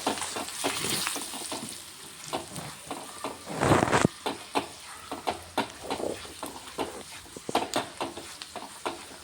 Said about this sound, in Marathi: मग त्यात हळद हिंग घालून व्यवस्थित परतायचे आहे